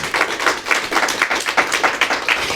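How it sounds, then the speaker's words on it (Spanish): A church congregation claps together in a steady rhythmic beat, a brisk unified applause with no speech over it. "Den un aplauso a Cristo en esta mañana."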